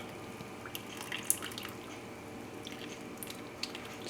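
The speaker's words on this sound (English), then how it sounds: "Just let it drip for the most part so I don't get my floor super dirty." Cooked apples draining in a strainer during applesauce making give off faint, sparse drips and soft wet squishes over a steady low background hiss, with no talking.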